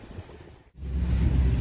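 Ocean surf at a Santa Cruz, California beach rolls in as a broad wash with wind buffeting, dipping briefly before swelling louder for the last second.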